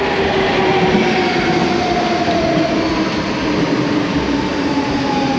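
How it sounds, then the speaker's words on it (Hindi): A train pulls into a graffiti-covered station in Oslo, Norway, with a loud, steady rumble of wheels and carriages throughout and a faint high brake whine drawn out across the passage. "ये ट्रेन आई है"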